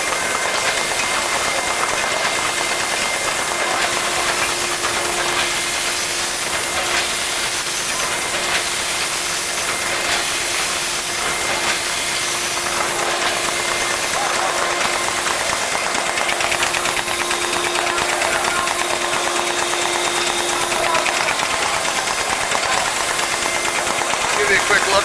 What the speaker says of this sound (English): What you hear running is an air-operated feed pump.